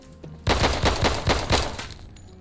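Rapid pistol gunfire from the video game Intravenous 2, a quick burst of about six loud, sharp shots in steady rhythm, close and alone, fading into a short tail.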